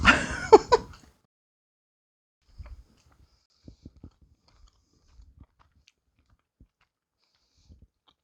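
Someone bites into a small piece of birthday-cake fudge and chews, giving a few soft, sparse, close mouth sounds after a brief noisy start.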